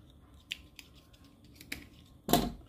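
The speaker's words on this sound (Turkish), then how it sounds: "ipimi kesiyorum" Scissors snip through thin crochet yarn at a finished motif, a few soft clicks and then one sharp, louder cut near the end, close up in a quiet room.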